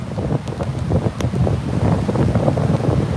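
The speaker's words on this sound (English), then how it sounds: "The wind is absolutely terrible today" Strong, cold wind rushes over a stormy beach, loud gusty buffeting against the microphone that rumbles continuously through the whole short stretch, with no voices.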